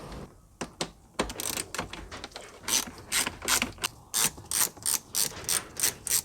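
A ratchet clicks in quick rhythmic bursts while loosening 10mm bolts inside a Mercedes-Benz C-Class W204. The clicking is close and fairly quiet, with short pauses between runs.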